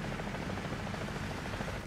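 An attack helicopter in War Thunder ground battle gameplay thrums with steady rotor chop, loud and constant with no talk over it.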